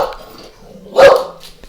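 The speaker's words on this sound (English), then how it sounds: "And the dogs are with us, yes." A dog gives one loud bark close by, with faint rustling and softer household noise around it.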